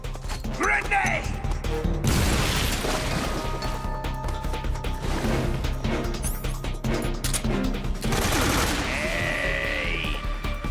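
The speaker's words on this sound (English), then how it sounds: "Grenade!" Gunfire and a grenade blast in the video game Metal Gear Solid 3: Snake Eater: dense bursts of shots and loud crashes play alongside music, and voices shout over the din.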